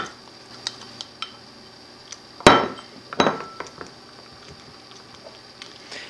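A spoon clinks against a container while castile soap shavings are stirred into warm, not boiling, water: a few light taps, then two sharper knocks close by, with no voices.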